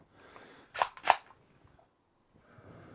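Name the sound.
cocking the hammer of a Metal Gear Solid replica pistol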